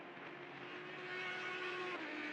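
Race car engines drone steadily at Watkins Glen in a sim racing game, a continuous loud roar with a high whine that shifts pitch slightly as the cars run on.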